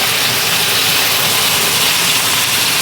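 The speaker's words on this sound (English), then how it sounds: "I got my blower on." An indoor kitchen blower runs over a pan-fried cold-smoked porterhouse steak, giving a steady, loud broadband whoosh with no breaks and no talking.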